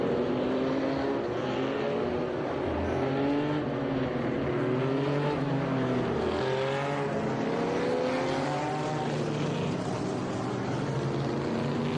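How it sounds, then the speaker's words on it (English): Vintage race cars including Porsches, BMWs and an old Datsun 240 roar around Laguna Seca on a rolling start, engines loud and sustained, revving and shifting pitch as the pack accelerates past. "Beautiful sight and sound here as we get some real beautiful engine sounds."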